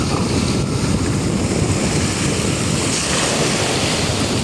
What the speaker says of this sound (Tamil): இந்த கொஞ்சம் காற்றும் கூடுதலாக இருக்குது